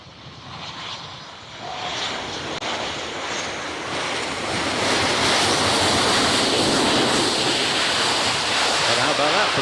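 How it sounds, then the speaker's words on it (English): A jet aircraft makes a short landing on the Farnborough runway during the 2024 Farnborough International Airshow flying display, a broad steady engine roar building louder and holding near the end, with a wind-like rush and no talk. "how about that for a fairly short landing?"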